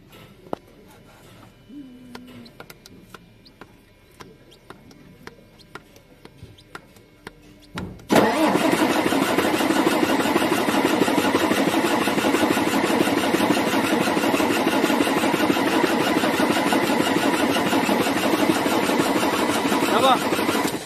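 A MAN TGA truck with a low-pressure fuel fault cranks and then starts, a sudden loud burst settling into a steady, dense engine roar that runs on close by for over twelve seconds after a quieter lead-in.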